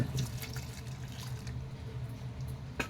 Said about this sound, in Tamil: இப்போ சிக்கன் மூழ்கிற அளவுக்கு நம்ம தண்ணி ஆட் பண்ணிக்கலாங்க.